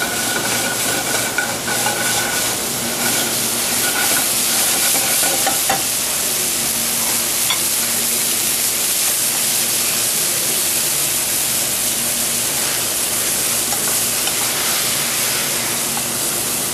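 Sablefish sears in a hot pan with a loud, continuous sizzle and hiss, and faint scraping at the start as the fillet is handled, with no talk.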